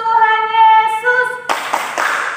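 Children at a Sunday school service at a church in Pekanbaru clap together in a steady rhythm, starting after a stretch of sung or played melody and continuing close and fairly loud.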